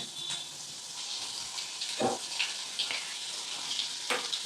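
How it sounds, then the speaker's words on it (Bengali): Steady hiss of prawns frying in hot oil, with occasional soft pops and stirring clinks, close and continuous throughout. "চিংড়ি মাছটা ভাজা হচ্ছে"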